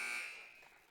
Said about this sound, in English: Now Matson at the buzzer